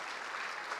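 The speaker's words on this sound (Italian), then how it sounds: "stava partendo l'applauso, ci stava l'applauso" Audience applause at a talk on space exploration: dense, even clapping from a crowd, steady and moderately loud throughout a brief moment with no voices over it.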